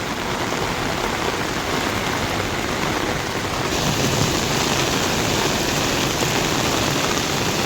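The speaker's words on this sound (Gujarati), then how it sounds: "પણ વરસાદ તો હજુ ચાલુ જ છે" Heavy rain pours outside during a downpour that has left water pooling all around, a dense, loud, unbroken hiss that stays steady throughout, with no voices.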